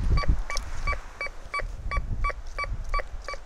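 Golden Mask metal detector with a Spider 9-inch coil gives a repeated beeping tone, about eight short evenly spaced pulses, clear and close over faint low rumble.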